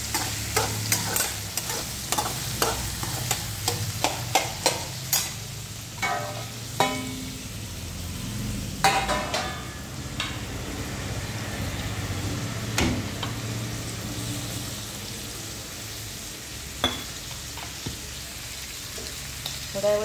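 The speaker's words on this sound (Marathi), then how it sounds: "चांगलं वाफळू द्यायचं तोपर्यंत चांगलं परतून घ्यायचं" Mixed vegetable bhaji sautéing in a pan, with a steady sizzle under repeated scraping and stirring strokes of a spoon, close and fairly loud, continuing throughout.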